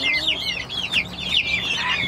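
Chicks and chickens cluck and peep nearby, with rapid high cheeping chirps that overlap one another in a steady busy chorus.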